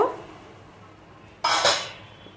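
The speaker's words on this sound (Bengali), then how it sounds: "ঢাকাটা খুলে নেব।" A metal lid is lifted off a pan of cooking red leafy greens, a sudden close clatter and rush of steam and sizzle that follows a quiet stretch, then slowly fades.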